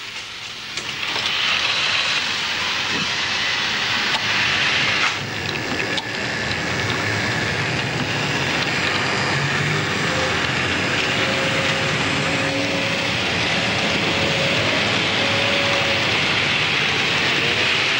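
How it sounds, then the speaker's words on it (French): HO scale model railway wagons roll down a hump yard onto the sorting tracks, a steady rumbling hiss of small wheels that carries on evenly throughout, with occasional faint squeals. "Les wagons dévalant d'une butte et étant dirigés sur un faisceau de réception en fonction de leur destination."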